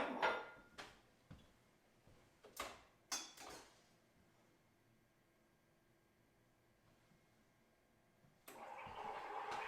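An espresso machine's steam wand froths 5 ounces of milk in a frothing pitcher: a steady loud hiss starts near the end, after a few clunks and knocks of handling and quieter running noise.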